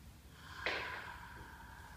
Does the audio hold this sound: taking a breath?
yes